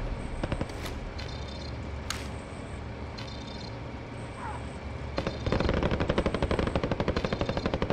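Rapid automatic gunfire from a shooter video game, with sparse shots and clicks at first, then a loud, sustained rattling burst over the last few seconds, with no talking.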